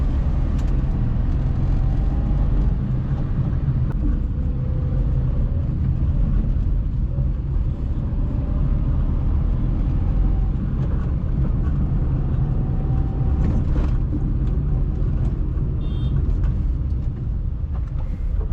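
Tata Nano car driving through city traffic, a steady low engine and road rumble running continuously throughout, with faint passing vehicle sounds and no talking.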